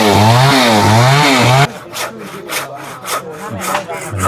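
Someone saws wood on a hundred-year-old house being torn down and rebuilt: fast, rhythmic back-and-forth strokes, loud and near, then irregular knocks and scraping.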